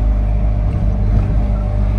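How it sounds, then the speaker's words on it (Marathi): Car cruising on the Samruddhi highway, a loud steady low road and engine rumble with no letup, heard close from inside the vehicle. "आपली गाडी आज सध्या समृद्धीने चालू आहे आता"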